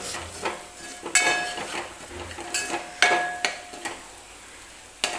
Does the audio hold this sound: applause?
no